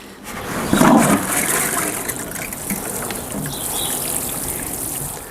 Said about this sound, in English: all that's left to do now is to water him in